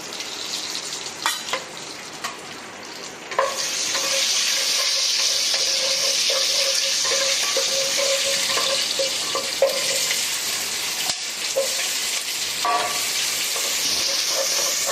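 Onions fry in hot white oil with cinnamon, cardamom, cloves and bay leaves for khichuri, giving a loud, steady sizzle, while a spoon stirs them in repeated close scrapes and clinks. No one speaks.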